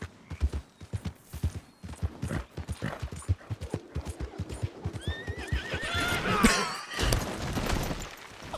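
Horse neighing and whinnying in Red Dead Redemption 2, with steady clip-clop hooves throughout and a loud, near whinny late on, no talk over it.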